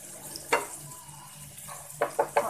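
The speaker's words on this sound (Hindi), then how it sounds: "इसमें मैं डाल दूंगी 1 बड़ा चम्मच अदरक पिसा हुआ, इसको थोड़ा सा सौते कर लेंगे" Ground ginger, one tablespoon, being sautéed in a pan while making moong dal kachori filling, with stirring scrapes and a few soft sizzling bursts, close and fairly quiet, with no talking.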